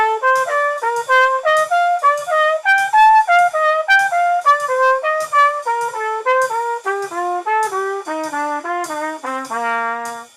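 A single melodic instrument plays a major-scale pattern for jazz improvisation, moving in thirds with a skip and then a step. The notes are clean, evenly spaced and detached, climbing and then descending over a faint drum-machine backing.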